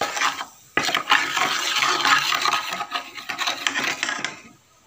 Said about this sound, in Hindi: अब मैं इसको हिलाऊंगा।